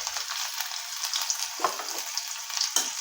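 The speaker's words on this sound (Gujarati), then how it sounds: "તો આદુ મરચાં આ રીતના શેકાય" Green chilies and ginger paste fry in hot oil with mustard seeds and cumin, a steady close sizzle with brief crackles and stirring sounds.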